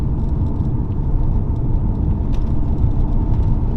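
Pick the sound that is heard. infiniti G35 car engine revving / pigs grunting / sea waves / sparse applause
infiniti G35 car engine revving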